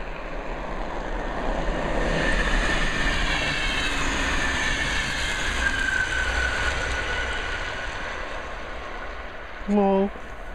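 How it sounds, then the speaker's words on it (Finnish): A steady broadband rumble of a train passing, sustained throughout with a brief higher tonal horn-like blip near the end. "nyt se juna tulee"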